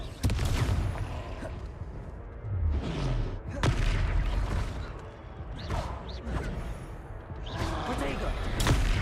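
In Hogwarts Legacy, the Confringo fire spell lands as sharp, booming explosive impacts, several thuds and blasts scattered among combat effects, with a voice speaking over the fighting.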